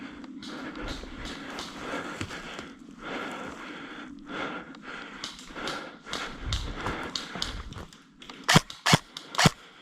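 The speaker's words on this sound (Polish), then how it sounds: "Strzela do mnie." Electric airsoft guns fire during a winter game outdoors, with several sharp close cracks bunched near the end, heard over wind-like noise and scattered talk between players.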